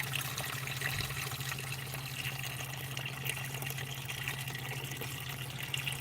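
Thick milkshake liquid pours continuously into a baking pan from a milkshake machine, making a steady wet rushing stream with a low machine hum underneath, fairly quiet and without speech.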